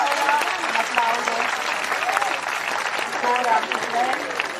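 An audience at a horse show in Oristano, Sardinia applauds steadily, a continuous wash of clapping with crowd murmur and voices speaking over it.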